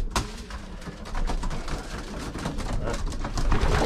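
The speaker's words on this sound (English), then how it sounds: "The pigeons go for it straight away." Racing pigeons in a loft cooing and bustling as they rush for food scattered on the floor, soft repeated coos with wing flutters and scratching nearby, growing a little busier toward the end.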